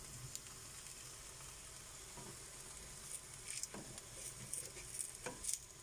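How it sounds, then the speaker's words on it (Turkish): Thin flatbread batter for lavash crepes sizzles in a pan inside a camper van, a faint steady frying hiss with light crackles and soft pops growing busier toward the end. "Böreğimiz pişiyor."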